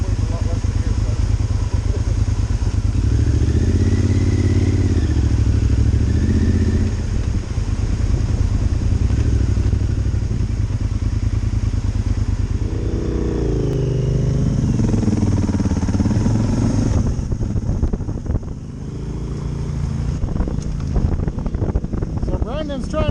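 Off-road motorcycles, a Yamaha Super Tenere and a DR, ride through loud wind buffeting, a steady engine drone carrying under the noise while a rider talks close to the mic.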